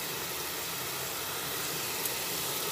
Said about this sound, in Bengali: এরপরে এর মধ্যে এক এক করে বেগুনগুলো আমি দিয়ে দিচ্ছি।